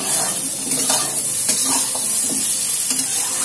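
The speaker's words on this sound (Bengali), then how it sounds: "আবারও আলুগুলো দিয়ে সমস্ত সবজি 4 থেকে 5 মিনিটের মতন খুব ভালো করে নাড়াচাড়া করে ভেজে নেব।" Loud sizzling stir-fry of small potato pieces with cauliflower stems and other vegetables in a pan, with a spatula scraping and tossing in an irregular rhythm over a constant hiss, close up and without talk.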